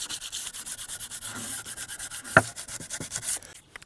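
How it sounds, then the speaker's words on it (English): Wooden vanity pieces being sanded by hand, a rapid rhythmic rasping scrub of back-and-forth strokes, close and steady, with one sharp knock partway through. "Now I'm just going to give them a quick sand or a cut just to make sure everything's smooth."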